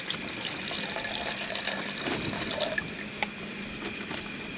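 Half a litre of water being poured into a pot on a camping stove outdoors, a soft steady trickle and splash with faint clinks, fairly quiet and continuous.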